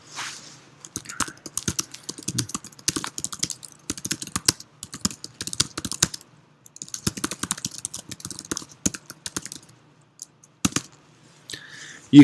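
Close keystrokes on a computer keyboard, fast irregular bursts of clicky typing broken by short pauses, with no speech over them.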